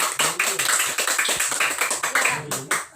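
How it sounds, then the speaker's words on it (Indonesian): A small group in a classroom claps in a quick, regular rhythm, each clap distinct and close, with a few voices heard alongside. "tepuk tangan untuk kelompok manusia"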